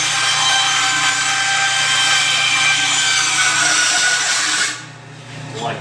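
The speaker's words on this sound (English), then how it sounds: "you can use a vertical bandsaw to do that" A vertical bandsaw cuts a radius in aluminum, giving a loud, steady whining buzz with a high metallic edge that drops away near the end as the cut finishes.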